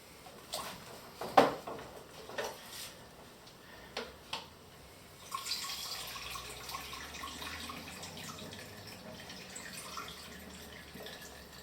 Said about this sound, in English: I will dump some water in here to stop the color developing